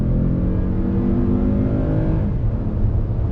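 A 2020 Toyota Highlander Limited midsize SUV accelerates in sport mode, its engine rising in a loud, steady drone heard from inside the cabin with no break in the sound.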